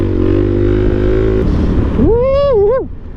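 A DRZ supermoto motorcycle engine idles loudly and close, then revs up in a quick rising and falling blip before settling back down.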